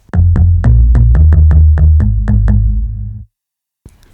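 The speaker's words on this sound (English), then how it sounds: "And then here I've got our bass part." A deep, punchy synth bass line plays a run of about a dozen evenly spaced notes, loud and alone, then stops abruptly before a brief click.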